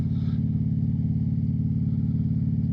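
Motorcycle engine held at low RPM on an autumn leaf ride, a steady deep rumble with even pulsing throughout, close and constant with no revving.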